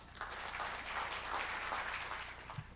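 A conference hall audience at a 2025 forestry outlook forum gives steady, even applause to welcome a speaker to the stage, heard as a dense, continuous patter at a distance.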